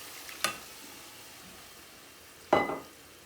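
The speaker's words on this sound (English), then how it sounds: "now we're going to add 1 mugful of boiling water." Boiling water is poured into a hot pan of sun-dried fish and potatoes, giving a loud sizzle that fades away, with an earlier brief sizzle.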